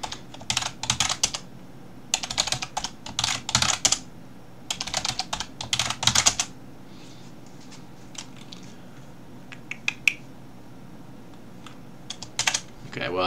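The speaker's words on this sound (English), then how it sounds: "I typed in the same password and it didn't like that" Fingers tap out a password on a computer keyboard in quick clustered bursts of crisp clicks, with pauses between runs and a few isolated keystrokes near the end, close and moderately quiet.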